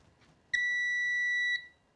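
A Seaward PrimeTest 250 portable appliance tester powering on with a single steady electronic beep of about one second, clear and close in a quiet room.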